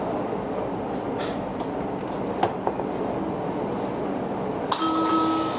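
A WMATA 6000-series Alstom Yellow Line metro car rides along, a loud steady rumble with scattered wheel clicks and thumps, then a brief high tone near the end.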